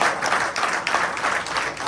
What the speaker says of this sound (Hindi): तो सबको वेलकम करते हैं भरपूर तालियों के गूंज में